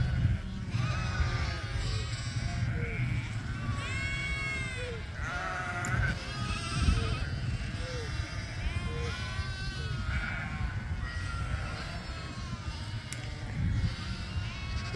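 A flock of sheep and lambs being driven down a road to the next pasture bleats repeatedly, overlapping calls of varying pitch over a steady outdoor rumble of hooves and movement.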